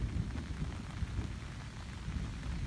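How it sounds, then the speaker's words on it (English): Steady rain hisses outdoors by a parking lot and pavilion at Kinzua Bridge State Park during a thunderstorm, with a dense, even wash and a low rumble underneath and no voices. "It's thundering and lightning out here."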